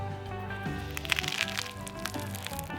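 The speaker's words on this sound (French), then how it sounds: "Voilà, ça croustille" Crisp, flaky puff-pastry crust of a baked quiche Lorraine crackles and crunches in a short close-up burst of small snaps, quiet but distinct.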